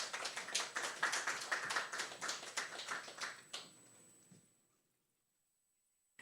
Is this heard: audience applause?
yes